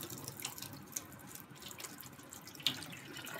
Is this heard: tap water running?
yes